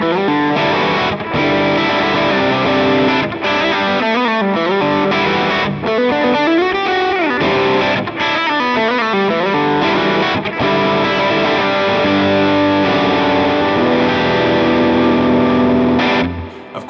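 Distorted electric guitar played through amp tones from a Line 6 HX Stomp, with loud, continuous chords and melodic riffs carrying effects and sustained notes, alone without talk.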